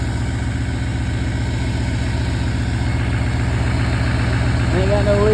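A 2022 Chevy 2500 Duramax diesel truck with its exhaust system deleted idles up close in a steady, loud low rumble that holds throughout, with a faint rise near the end and someone talking over it.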